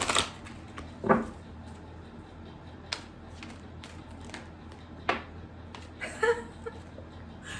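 A deck of cards is shuffled by hand in a quiet room, giving a few short riffling bursts and soft clicks scattered over several seconds with brief pauses between them.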